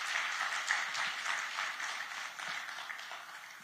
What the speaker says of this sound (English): I just want all of you to give a huge round of applause for organizing this.